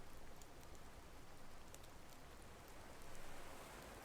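Steady rain in the survival game Card Survival: Tropical Island, a continuous even hiss of falling drops with faint patter, no voices.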